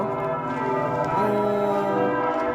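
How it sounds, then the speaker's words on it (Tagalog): A church bell rings out at a Catholic church in Berlin, its steady layered tones sustained and fairly loud throughout, with overlapping strikes blending into a continuous ringing. "Nag-bell kay maybe it's going to have mass."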